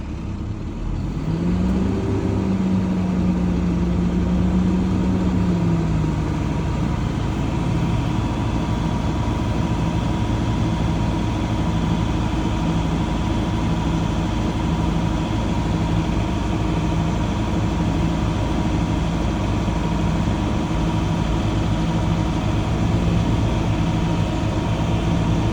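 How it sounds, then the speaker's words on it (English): A Class B truck engine is held at raised RPM during an in-cab air brake test, a loud steady droning hum with a brief rising then falling rev early on, continuous and close throughout. "we're gonna go ahead and accelerate my RPMs between 12 and 15"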